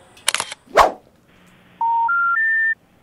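Mobile phone keypad dialing tones: three short electronic beeps rising in pitch, played close and clear after a brief burst of noise and a sharp rustle.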